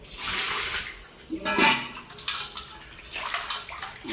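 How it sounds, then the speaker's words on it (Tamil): Cleaned goat trotters are rinsed by hand in water, with steady splashing and sloshing close by and a few louder surges as the water is churned. "அந்த க்ளீன் பண்ண காலை நம்ம நல்லா அலசி எடுத்துப்போம்."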